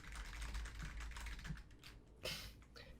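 Rapid, steady keystrokes on a computer keyboard fill the clip, close and fairly loud, with a brief burst of louder clacking near the end and no one talking.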